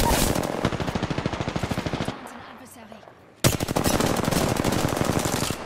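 Rapid automatic weapon fire in an Apex Legends match, loud, close bursts of dense rhythmic shots that stop briefly, then resume in another long sustained burst.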